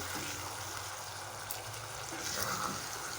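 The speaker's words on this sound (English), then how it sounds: "I've also added a little bit of water." A little water goes into sizzling tomato paste in a pan for pizza sauce, a continuous hiss and trickle that sounds close and fairly even, with a few soft bubbling bursts near the end.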